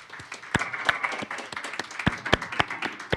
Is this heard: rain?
no